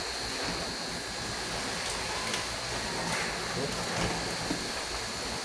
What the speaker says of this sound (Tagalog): Lakas ng hangin, grabe oh.